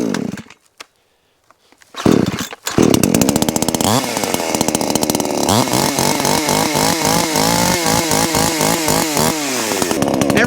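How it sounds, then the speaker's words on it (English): A chainsaw sputters to life after a few pulls, then runs loudly and steadily, its engine revving up and down in rhythmic surges. "start the chainsaw"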